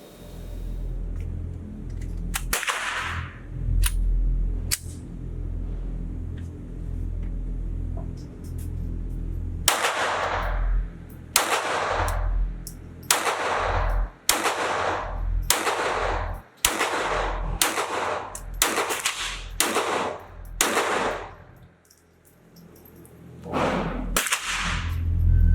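Sharp cracking shots from a Ruger 22/45 Lite Mk IV .22 pistol at a shooting range, a long irregular series of single reports, some in quick pairs, with brief pauses between strings.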